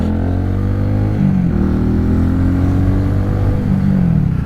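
XMT 250cc motorcycle engine revving loudly up close, a buzzy continuous drone with pitch rising and falling through several throttle blips and gear changes.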